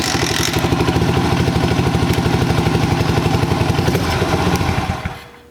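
A Kawasaki KLX110 dirt bike engine runs loud and close with a steady, rapid chugging pulse, held under throttle, then drops away and fades near the end.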